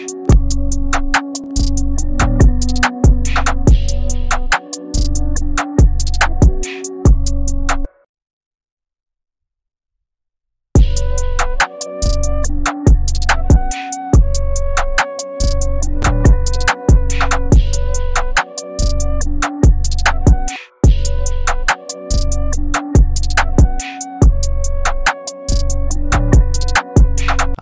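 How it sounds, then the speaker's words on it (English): Mellotron Strawberry Flute counter melody slowed to half speed with effects, riding over a hard-hitting trap beat with booming bass and steady drums, loud and continuous apart from a roughly three-second dropout of silence midway. "the first counter melody we're going to add is a flute from Mellotron."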